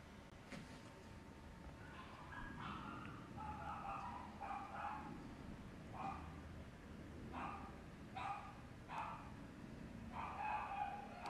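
A dog barks and yips in short repeated bursts during rough play, scattered across the whole stretch against a steady low background, with no talk.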